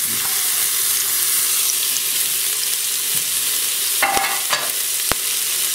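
Onions fry in a pressure cooker pot with a loud, continuous hiss of sizzling oil, joined near the end by a few sharp knocks and scrapes as they are stirred.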